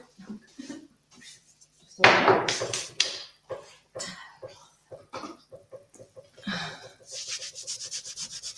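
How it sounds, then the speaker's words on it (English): Vintage wood furniture with damaged veneer is sanded by hand to remove the old finish, with irregular bursts of gritty rubbing and scratching, some louder and some faint, separated by short pauses. "when I'm happy that my wood is sort of sanded, all the finish is gone"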